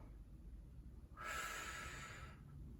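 Someone takes one deep belly breath, a soft airy exhale or inhale of about a second rising out of quiet room tone, close and faint.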